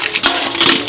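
Water gushes steadily from a tap, a close, broad rushing hiss with no voices over it.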